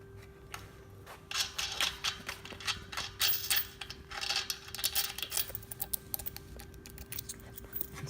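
Small screws on the axle hardware of a geared motor are worked loose by hand: faint, rapid clicking and ticking in irregular bursts, close up and quiet, with no talking.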